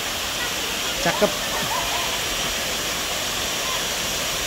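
The waterfall at Pancur Aji makes a steady, broad rushing roar throughout, with a person speaking briefly over it.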